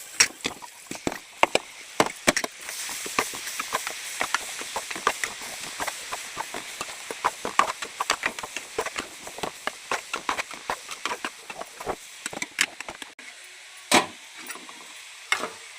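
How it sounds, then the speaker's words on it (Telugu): Broad bean pieces dropped into a hot pan with fried chili powder, setting off a busy sizzle full of sharp crackles and pops that stays lively throughout, then thins toward the end. "చుక్కుడుకాయ ముక్కలు వేస్తున్నా."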